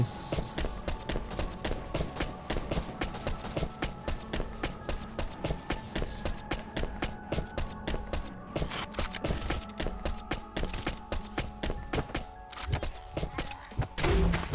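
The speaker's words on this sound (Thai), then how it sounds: "และคือโดนปืนลูกระเบิดเลยว่ะ" Rapid, steady volleys of grenade launcher fire in the video game Last Island of Survival, with punchy shots and thumps repeating without pause for the whole stretch.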